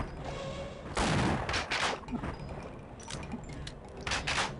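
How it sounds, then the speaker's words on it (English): Shotgun blasts in the original Half-Life, a few heavy booming shots spaced out across a short stretch of combat, loud and close, with no talking. "Shotguns always help."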